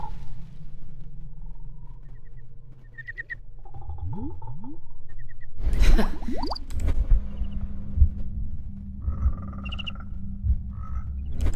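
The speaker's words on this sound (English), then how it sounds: "I just love listening to the sounds of frogs." Frogs croak and chirp in repeated pulsing calls over a low rumbling background in the video game Sherlock Holmes: Crime & Punishment, with a loud thumping interruption midway.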